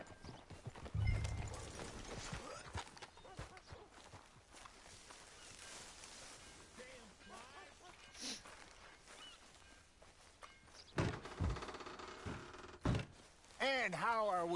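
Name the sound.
horse hooves and whinnying in a video game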